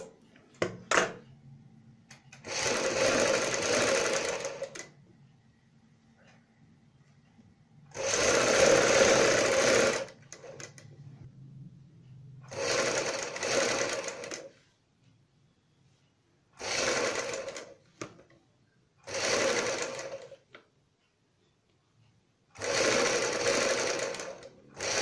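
A sewing machine stitches a folded strip along a kurti sleeve in about six separate bursts of close, steady whirring, with quiet pauses between runs.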